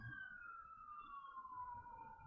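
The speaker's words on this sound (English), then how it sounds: "we're being attacked by sirens and birds" A wailing siren, heard through an open window, drifts slowly downward in pitch, steady and fairly distant, over a low rumble of traffic noise.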